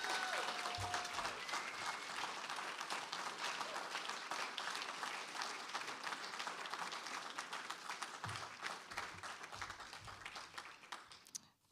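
An audience applauds after a reading at a faculty presentation, a dense, steady patter of many hands clapping that holds for about eleven seconds before trailing off, with a few faint voices underneath.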